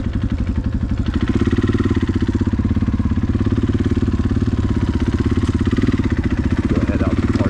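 Several motorcycle engines from a large group ride idle and rumble together nearby, a steady, dense low throbbing clatter that holds level throughout with no clear revving.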